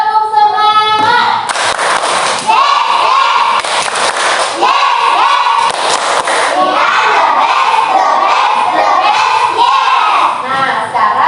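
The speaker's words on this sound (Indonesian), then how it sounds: "Ibu cek semangatnya dengan tepuk semangat." A class of children in a school lesson does a rhythmic patterned clapping chant, sharp claps in a set beat alongside shouted voices, loud and close throughout.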